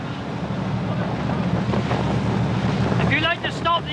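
An outboard motor drones steadily on a small boat at sea beside a Salcombe lifeboat, its low churn mixed with wind buffeting the microphone and rushing water, with brief voices near the end.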